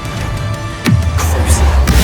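Confringo blasting spell cast in the Hogwarts Legacy video game: a sudden whooshing burst followed by a low rumbling boom and crackling impact, fairly loud amid other game effects.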